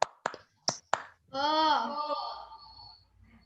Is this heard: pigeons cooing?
no